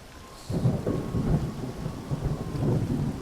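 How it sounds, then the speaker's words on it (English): A thunderstorm sound effect in a tabletop fantasy game session: low rumbling thunder rolls over a steady rain hiss, swelling twice across a few seconds. "the storm begins to get worse"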